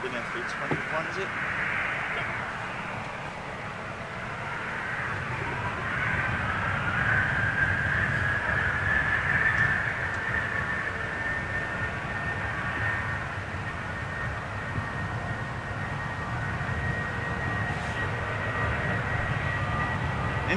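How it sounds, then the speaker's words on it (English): Boeing 737 jet engines spool up in a steady, broad roar with a rising whine, heard from a distance while people talk over it. "Interesting that these 737s take longer to spool up than the others"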